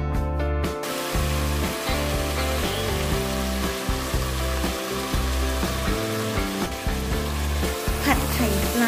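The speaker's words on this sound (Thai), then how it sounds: "ผัดไข่ปลาให้เข้ากับเครื่องปรุงนะจ๊ะ" Fish roe stir-frying with chili, pepper and oyster sauce in a pan, a continuous loud sizzle with repeated scraping strokes of a spatula throughout.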